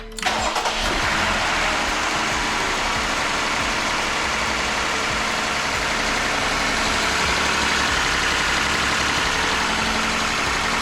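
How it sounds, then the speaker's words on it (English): Engine of a 2019 Jeep Grand Cherokee cranks and catches, then settles into a steady, smooth idle after fresh spark plugs, a close, loud, even hum with faint ticking and no voices. "we'll just start the car and we'll see if everything runs smoothly"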